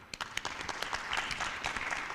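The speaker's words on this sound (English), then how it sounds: "a round of applause for the wonderful team at IGF" Scattered applause rises from a conference room audience at the IGF 2022 forum for the organising team, individual claps distinct at first, then thickening into a moderate, fairly distant round of clapping.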